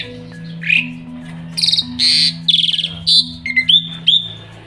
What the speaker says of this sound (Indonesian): Burung jalak ini.